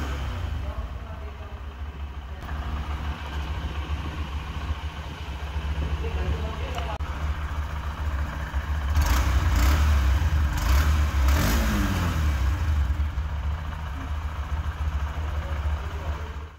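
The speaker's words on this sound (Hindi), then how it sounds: "ये इसका एग्जॉस्ट साउंड आप सुन सकते हैं" A Honda Shine 125 motorcycle idles with a low, steady exhaust note and then revs up and back down, while someone talks over it throughout.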